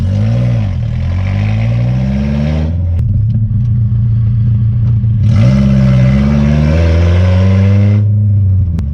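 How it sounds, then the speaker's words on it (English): Loud exhaust from a KA24DE-swapped Datsun 620 pickup on the road, heard from inside the cab: two rising revving pulls split by a steadier drone as the gear changes, close and continuous with no talk. "all the exhaust noise comes through the open trans tunnel"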